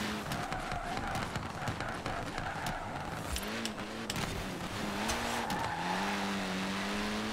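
Several cars race in Forza Horizon 4, a Pagani Zonda among them, with engines revving through gear changes, tires squealing and rivals whooshing past, steady and fairly loud.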